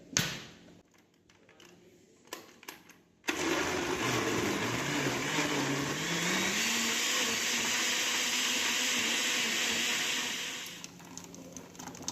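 After a few clicks and bumps, a blender blending mangoes roars on close by, whirring steadily for several seconds with shifting pitch before winding down.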